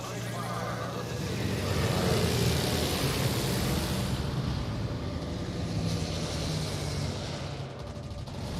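Carrier planes drone overhead in World of Warships: Legends, a steady loud aircraft engine roar that swells and fades, with someone talking over it.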